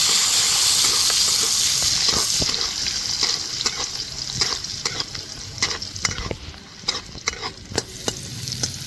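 Quartered jackfruit seeds go into hot oil in a pan, starting with a loud burst of hissing that settles into a softer, steady sizzle, broken by repeated sharp clicks of stirring against the pan.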